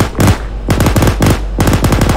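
Loud, close automatic gunfire in the military shooter Arma 3 comes in four rapid bursts separated by short pauses, each a tight rattle of shots with no voices over it.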